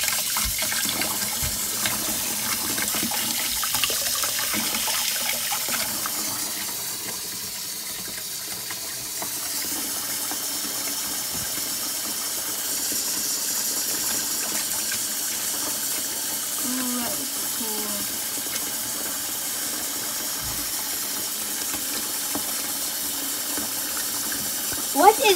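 Water runs steadily from a tap with a constant hiss for a long stretch, with faint clattering and murmured voices in the background.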